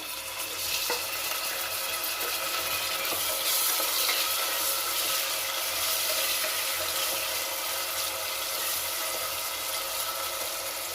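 Chopped tomatoes hit browned onions in a pan for a potato and brinjal masala curry, giving a steady, loud, close sizzle of frying with faint stirring throughout and no talking.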